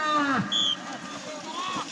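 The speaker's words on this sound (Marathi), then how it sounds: "कसा बैल बोलला बघा" A bull lows with a deep, drawn-out moo at a bullock cart race, followed by a couple of shorter calls nearby.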